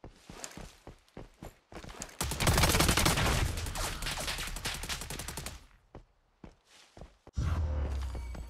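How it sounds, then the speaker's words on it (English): Bursts of automatic gunfire from a hostile firefly in the shooter game Lost Light, loud and close, with rapid volleys, scattered single shots and a heavy barrage in the middle, then sharp reports and a final burst. "A hostile firefly is attacking me."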